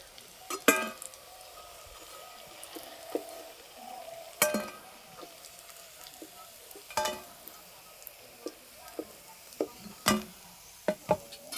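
Soybean rolls fry in oil in a pan, a faint steady sizzle under sharp intermittent clinks and scrapes of a utensil turning and lifting them, close by without any voices.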